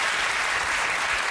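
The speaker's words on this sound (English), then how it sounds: "One clap for Rob." Studio audience on a comedy panel show clapping together, a dense steady wash of applause filling the whole short stretch with no voices over it.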